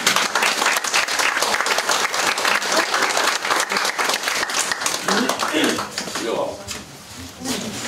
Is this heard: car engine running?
no